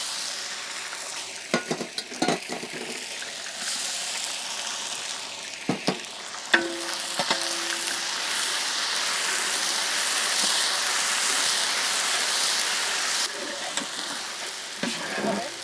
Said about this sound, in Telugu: అల్లం వెల్లుల్లి పేస్ట్ నూనెలో చక్కగా వేగాక